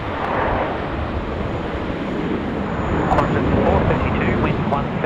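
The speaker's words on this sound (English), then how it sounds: "we've got our Medruji livery for Qantas A380 rolling in 16 right" A Qantas Airbus A380 in Medruji livery rolls on runway 16 right at Sydney Airport, a loud, continuous broad jet roar heard from a distance. A voice talks under the engine noise.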